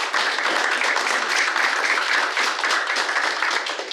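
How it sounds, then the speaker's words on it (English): An audience at a Google-presented leadership summit breaks into sustained applause, a loud, even wash of many hands clapping close together for the full few seconds with no voices over it. "you deserve a round of applause for that"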